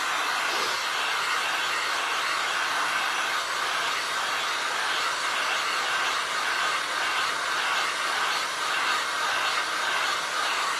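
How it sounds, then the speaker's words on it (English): A blow dryer runs steadily and close up, drying ink on a glass Christmas tree art piece, giving a continuous broadband whoosh with no speech over it. "I'm gonna hit this with my blow dryer just to make sure the ink is dry"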